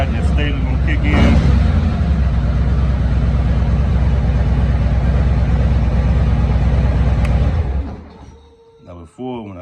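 A 2021 Harley-Davidson Street Glide engine runs at a steady, loud, throbbing idle close by for about eight seconds, then cuts off abruptly, leaving near quiet with a few brief faint sounds.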